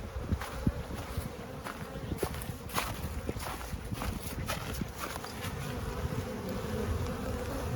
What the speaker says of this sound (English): There was just such a backlog of bees getting in and out